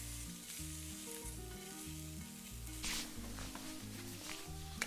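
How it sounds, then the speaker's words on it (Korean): Steady sizzling of onions frying in a hot pan, with occasional scraping stirs, close and continuous with no talking. "자, 30초만 볶고 끝내겠습니다."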